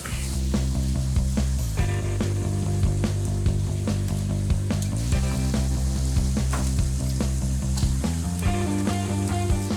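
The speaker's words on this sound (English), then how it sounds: "So now I'm gonna add back in the meat." Meat returns to a hot Vulcan VG30 braising pan after a wine reduction, letting out a loud, close, steady sizzle and frying hiss with occasional stirring scrapes, and no talking.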